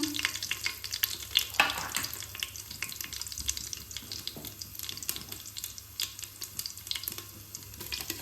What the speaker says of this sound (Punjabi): ਜੀਰਾ ਪਾ ਕੇ ਆਪਾਂ ਸਭ ਤੋਂ ਪਹਿਲਾਂ ਪਾਵਾਂਗੇ ਕੜੀ ਪੱਤੇ ਫਿਰ ਨਾਲ ਹੀ ਆਪਾਂ ਅਦਰਕ ਪਾ ਦਾਂਗੇ ਹਲਕਾ ਜਿਹਾ ਬਰਾਉਨ ਕਰਨਾ ਪੈਣਾ